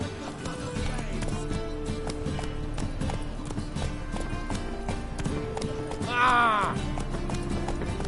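In The Witcher 3, the horse Roach gallops with rapid, steady hoof clip-clops throughout. Near the end a brief whinny rises over the hoofbeats, along with a short voiced exclamation.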